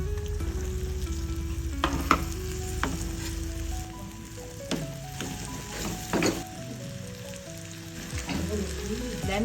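Okra fries in a pan with chili and turmeric powder, a steady close sizzle with soft stirring scrapes and occasional clinks of a utensil, with no talking.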